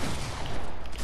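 Dense burst of gunfire from the Fortnite battle royale game, Season 6, a rapid continuous fusillade lasting about a second, loud and close with no talk over it.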